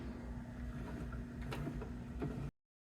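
A sewing machine stitches around the edge of a card holder cover with a quiet, steady mechanical whir and faint ticking, then cuts off abruptly.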